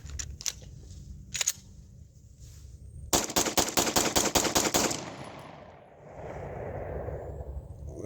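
Pistol fire from a Combat Armory CA19 with a Glock 19X magazine fitted with a Strike Industries +5 aluminum base plate: a loud, rapid burst of about eight close shots, with a couple of isolated shots before it, then outdoor ambience.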